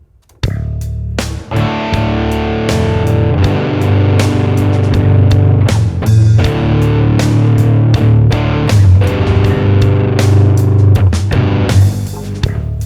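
Dirty, heavily distorted electric guitar chords strummed loud and continuous at a mid rock tempo, with repeated chord hits over a steady sustained wash, no voices.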